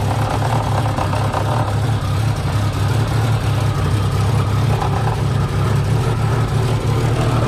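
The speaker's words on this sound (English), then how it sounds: "exhaust is rattling against the transmission" A 1989 Jeep XJ with the 4.0L engine idles steadily with a deep, throbbing exhaust note and a loose exhaust rattling against the transmission, loud and close throughout with no talking.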